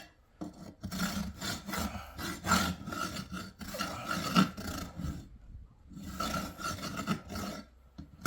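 A farrier's rasp files the burr from under a nail on a sore horse's hoof, rhythmic gritty strokes in quick repeated bursts with short pauses between sets, close and clear with no talking.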